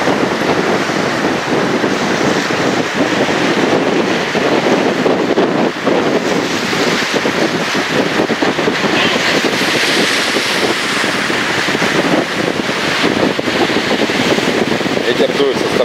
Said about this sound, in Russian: Сильнейший ветер.